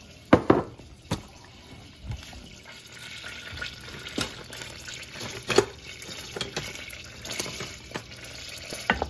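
Macaroni pasta dropped into a pot for homemade mac and cheese and stirred, giving a few soft splashy thumps followed by irregular scraping and clinking stir sounds over a quiet background, with no talking.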